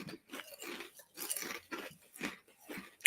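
Crunchy kettle-cooked truffle and garlic potato chips being chewed close up, a run of about seven crisp, evenly spaced crunching bites with short pauses between them and no talking.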